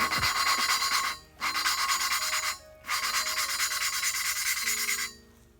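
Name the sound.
lapping valves on a Honda B17A1 VTEC cylinder head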